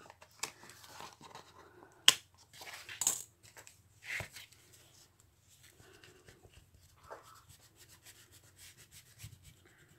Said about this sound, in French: ce qu'on va faire, c'est qu'on va gommer, ce trait